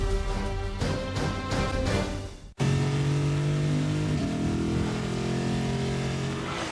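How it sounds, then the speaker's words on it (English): A six-cylinder, 8-speed Lexus GS engine revs in a series of rising bursts, then after a sharp cut swells into a loud, sustained acceleration whose droning tone climbs and shifts, with no talking over it. "The 6-cylinder, 8-speed Lexus GS, with more standard horsepower than any of its German competitors."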